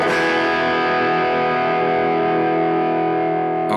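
A heavily distorted electric guitar chord through a BOSS GT-1000 Plexi-style Brit stack patch rings out loud and sustained, thick and buzzy, decaying slightly before a short scrape at the end.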